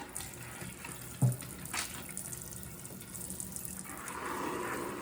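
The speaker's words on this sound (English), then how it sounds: "Rinse them really well." Collard greens are rinsed under a running kitchen tap. The water makes a quiet, steady stream with a single soft knock early on, and the flow grows a little fuller toward the end. No one speaks.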